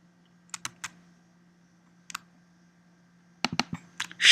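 Sparse computer keyboard taps and mouse clicks, a few short clusters of close clicks separated by pauses over a faint steady hum.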